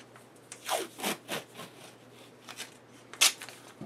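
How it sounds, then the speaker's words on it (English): Tape is torn and pressed onto the bolt of an FV-SR rifle before it is rattle-can painted. Several quick, quiet ripping and rustling strokes come close by, with one sharper tear near the end. "Now I got to tape up the bolt."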